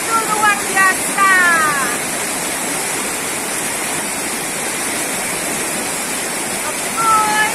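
River water rushing steadily during a trip along the river, a loud broadband roar close by, with a voice briefly heard over it at the start and end.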